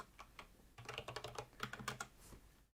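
Close computer keyboard typing during a live coding session, a few sparse taps then a quick run of clicky keystrokes with a final spacebar-like thump, no voices.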